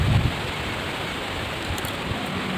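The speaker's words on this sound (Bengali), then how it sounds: "বৃষ্টি শুরু হয়েছে।" Rain begins falling during a storm as a steady, dense hiss of drops that stays even throughout.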